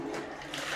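Toilet flush in a Star Night bathroom, a brief burst of rushing, gurgling water heard close and moderately loud, with no talk over it.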